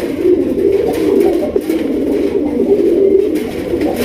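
Red Raj Golla pigeons coo continuously at close range, their low, throaty rolling calls overlapping without a break and no voices.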